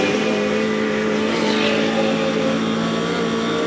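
Race cars at Goodwood's 75th Members' Meeting, a Mini chasing a Camaro on the circuit: a loud, sustained engine roar with a rising, revving tone as the cars pass close.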